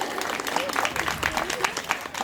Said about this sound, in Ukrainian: покажіть зараз своїми щирими оплесками, які гостинні наші старосамбірчани